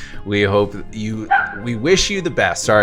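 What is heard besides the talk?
dog barking in the background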